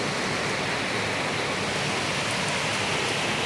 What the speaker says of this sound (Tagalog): ang sarap pakinggan ng ulan